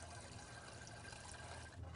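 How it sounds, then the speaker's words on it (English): Cold tap water runs steadily over boiled eggs in a pot, a continuous broadband rush of splashing with no pauses throughout. "Turn on the cold water and let them run under some cold water."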